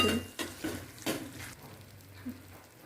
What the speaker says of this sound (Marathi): टोमॅटो सॉस टाकायचा आहे आपल्याला आता आपण हलवून घेऊ